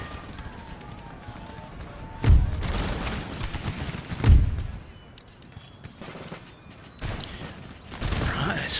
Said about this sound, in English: Let's get the artillery right on these guys.